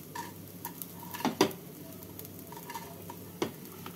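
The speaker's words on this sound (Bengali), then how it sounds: "চালগুলোকে আমি এইভাবে ভেজে নিলাম।" Rice fried in a wok and stirred with a utensil, giving a low, quiet sizzle under several distinct scrapes and light clinks against the pan, two louder knocks close together midway.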